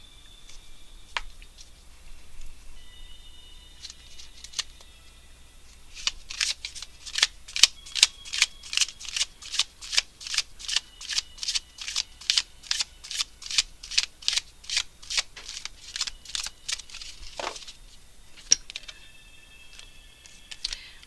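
Tarot cards shuffle in a quiet room, a long run of quick, crisp riffling bursts in steady rhythm, close and fairly soft, with a few scattered taps before and after.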